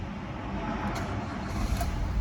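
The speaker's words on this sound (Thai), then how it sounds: "เราสตาร์ทให้ฟังนะครับ" A 2012 Nissan Almera 1.2E with a five-speed manual gearbox starts up, a steady close engine rumble and mechanical noise running throughout with a slight rise near the end, no talking over it.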